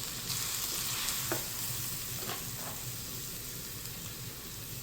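Mushrooms hitting a hot multicooker pot seasoned with salt and pepper give a steady, loud sizzle and frying hiss throughout, with a few brief clicks of a utensil against the pot.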